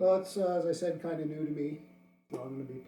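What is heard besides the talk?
No everyday noise stands out behind the speech.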